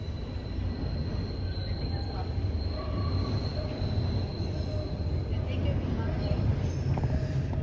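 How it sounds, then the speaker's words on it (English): A Toronto subway train running, a loud continuous rumble of wheels on track with a thin, high sustained squeal on top, steady and close from start to finish. "we're in the subway now"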